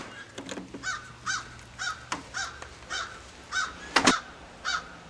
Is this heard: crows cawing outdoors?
yes